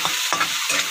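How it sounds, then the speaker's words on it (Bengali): Green chilies and chopped garlic frying in oil in a pan while being stirred: a close, loud sizzle broken by three quick scraping strokes of the spatula in rapid succession. "নাড়াচাড়া করে নিই।"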